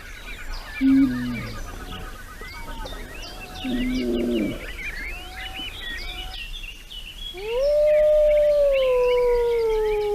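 A young wolf gives an alarm call, howling several times, first short yelping calls, then a long rising and falling howl, with birds chirping in the background.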